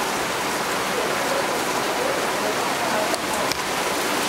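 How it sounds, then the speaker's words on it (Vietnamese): Steady rain pours down outside as a dense, even hiss, with a couple of faint knocks near the end. "ngoài trời đang mưa rồi"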